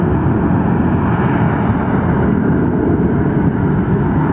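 A departing airliner at Atlanta Hartsfield airport gives off a loud, steady engine roar that stays close and constant throughout, with no voices over it.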